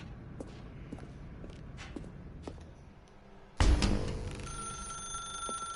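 Footsteps in The Stanley Parable video game, then a sudden loud metallic ringing that lingers and decays with a sustained tonal ring, close and alone without talk.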